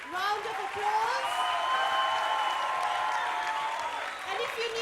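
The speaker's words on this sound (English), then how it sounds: "Won't you give them another huge round of applause?" Audience applause after a stage play, a broad steady round of clapping from the crowd heard under a sustained voice, holding for several seconds before easing.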